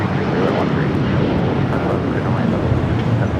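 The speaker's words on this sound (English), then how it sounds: "This is United Airlines 1069 taking off to Chicago on the 757-300." United Airlines Boeing 757-300 taking off from LAX, a loud, continuous broadband jet roar that holds steady through the whole stretch, with talk over it.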